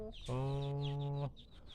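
Hens in a small Thai backyard flock give one drawn-out, tonal cluck-squawk lasting about a second, close and clear over faint background noise.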